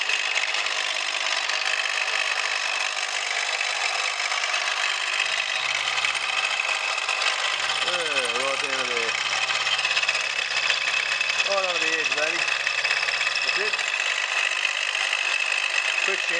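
A mill drill machines a chamfer on the edge of a metal part, producing a steady, close, high mechanical whine and hum that runs unbroken, with brief faint vocal sounds in the middle.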